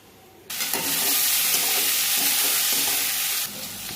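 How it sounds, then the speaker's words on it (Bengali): Sliced bitter gourd and potatoes with salt and turmeric hit a hot pan, setting off a loud, sudden sizzle that hisses steadily for about three seconds before dropping back to a quiet background. "উচ্ছে আলু কেটে নিয়েছি, ভেজে নেব"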